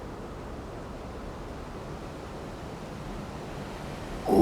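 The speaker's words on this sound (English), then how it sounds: "Oh, that wind's strong." Strong wind blowing outdoors in a garden or woodland, a steady low roaring rush that holds evenly throughout, with a sudden louder gust buffeting the microphone at the very end.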